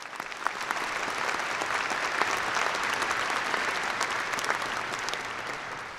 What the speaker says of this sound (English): How about another round of applause for Henry Hare?